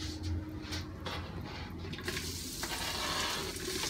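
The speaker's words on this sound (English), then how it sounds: "The sizzle means it's working." Close, steady sizzling and crackling of diced onions sautéing in a hot Instant Pot, with a brief stirring scrape partway through and the sizzle intensifying after.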